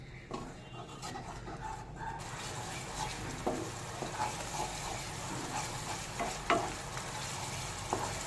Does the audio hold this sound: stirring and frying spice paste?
yes